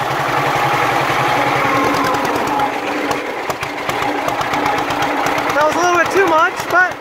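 A two-cylinder John Deere H tractor engine runs with a steady, loud, rhythmic putt-putt throughout, and a person talks over it near the end.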